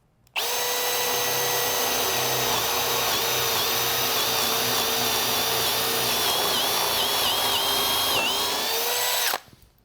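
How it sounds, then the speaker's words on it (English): A power drill bores steadily into wood, throwing out chips, its loud, close whine holding for about nine seconds with slight wavers in pitch before stopping abruptly. "as I'm drilling down, wood chips are coming out"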